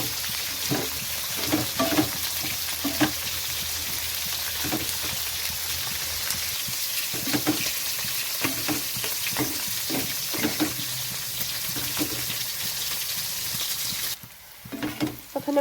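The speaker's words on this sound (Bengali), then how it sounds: "এখানে বাকি মাছগুলো ভাজা হচ্ছে।" Shankar fish (stingray) frying in a pan, a continuous close sizzle with irregular pops, scrapes and stirring knocks scattered through, easing off abruptly near the end.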